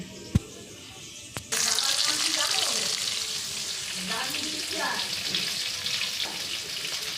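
Potatoes frying in a pan, a bright steady sizzle that starts suddenly after a couple of sharp knocks and continues close and even, with faint movement underneath.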